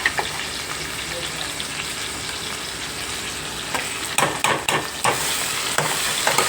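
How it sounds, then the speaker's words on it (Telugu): Ajwain paste frying in oil in a home kitchen, a steady broadband sizzle with stirring scrapes and a few sharper clatters near the end, close and moderately loud, with no talking. "బాగా నూనెలో వేయించుకోవాలి."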